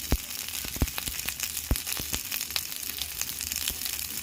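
Spoonfuls of lentil and egg batter fry in a hot pan during village-style home cooking, giving a steady sizzling hiss peppered with frequent sharp pops and crackles, close and fairly loud with no voices.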